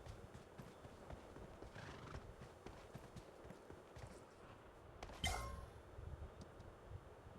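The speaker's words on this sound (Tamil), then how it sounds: "குதிரை பறக்குதுடோய்." Video game horse gallops with rapid clip-clop hoofbeats throughout, joined by a sharp whinny midway, all in a fairly quiet mix.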